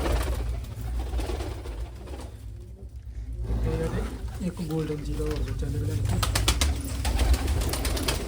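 Pigeons kept indoors in winter coo and rustle close by in a continuous low murmur, with someone talking over them throughout.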